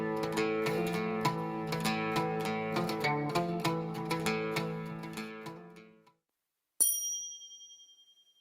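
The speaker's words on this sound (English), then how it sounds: "a Turkish lute has usually got 11 strings." A Turkish lute, a wooden instrument usually strung with 11 strings, plucked in a steady flowing melody of ringing notes for about six seconds. A short silence follows, then a single bright metallic ding that slowly fades.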